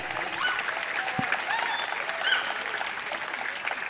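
An audience at a religious gathering applauds for children, a steady dense clapping that holds throughout at moderate loudness.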